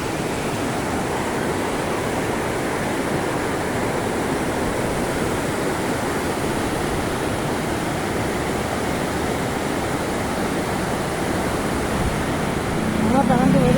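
Steady, broadband rush of water flowing and running openly past a spot, a constant close roar that holds level throughout and swells slightly at the end, with no voices.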